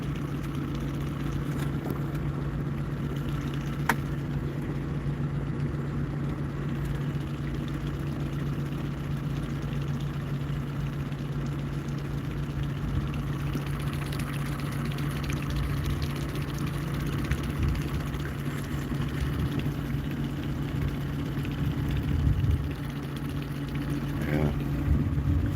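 An outboard boat motor runs steadily from start to finish, a low continuous drone on the water while out panfishing, loud and unbroken with no talk over it.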